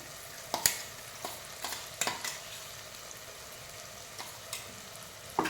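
Ground roasted coconut sautéing in a pan with onions, a soft steady sizzle broken by sharp scrapes and knocks of a spoon stirring, close and without talk.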